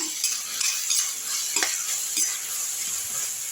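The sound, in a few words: carrot thokku sautéing and stirring in oil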